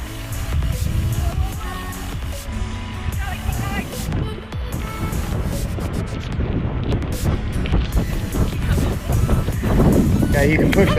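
Strong headwind buffets the microphone during a fast 5K run, a constant loud rumbling roar with gusty swells, and a voice is faintly audible under it.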